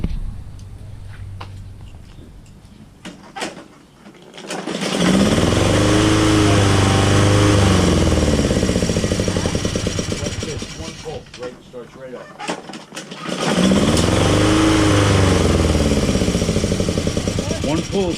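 A Cub Cadet SR621 lawn mower with a freshly replaced head gasket starts on a pull and settles into a loud, steady engine run, cuts off briefly, then fires up again and keeps running, with a voice talking over it.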